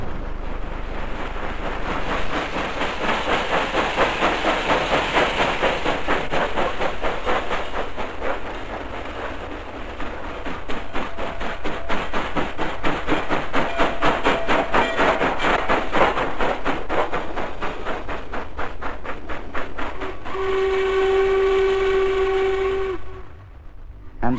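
Norfolk Southern Class A steam locomotive number 1218 rolls past with a fast, steady rhythmic chuff and clatter of rail cars, loud and close, ending in a long sustained steam whistle blast.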